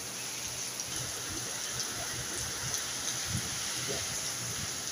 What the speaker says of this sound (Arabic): It's too much raining in Jeddah,